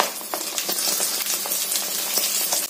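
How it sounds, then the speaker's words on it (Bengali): Food frying in a lot of oil, with a steady, close crackling sizzle and scattered sharp pops throughout. "এত তেল দিয়ে ভাজো না, এত তেল দেয় নাকি?"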